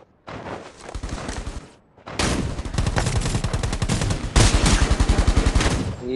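Bursts of rapid automatic gunfire from a Thompson submachine gun in the video game Rules of Survival rattle loudly, pausing briefly before a longer, sustained volley with dense, fast repeating shots.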